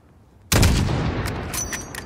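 A single loud sniper rifle shot at a 600-meter target in Call of Duty: Modern Warfare cracks suddenly out of near-quiet, then a long rolling echo fades with faint clinks in the tail.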